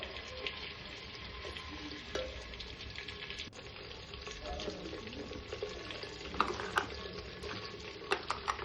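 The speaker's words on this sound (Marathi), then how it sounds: "ही पेस्ट टाकल्यानंतर सुद्धा तेलामध्ये छान अशी परतून घ्यायची" Ginger-garlic, onion and tomato paste sautéing in oil for a clay-pot mutton curry, a steady close sizzle and crackle with occasional stirring scrapes and small pops, no talking.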